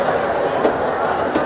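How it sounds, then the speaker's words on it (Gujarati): A Rajkot to Bhavnagar bus pulls into a Rajkot bus station with a continuous, loud low rumble and road noise that stays steady through the moment, with no clear talking. "તો હાલો, તો આપણી બસ આવી છે."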